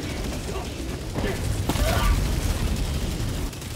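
Airstrike explosions rumble and boom in Helldivers 2, dense heavy blasts and debris noise at close range, loudest in the middle, with voices talking over the barrage.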